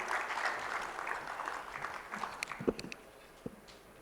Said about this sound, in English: Let's have a round of applause for Ashankan, please.